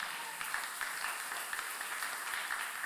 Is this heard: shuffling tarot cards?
no